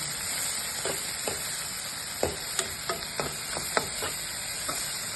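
Green chillies and dried shrimp fry together in a pan for a dried prawn and egg curry, a constant hissing sizzle broken by scattered light spatula taps.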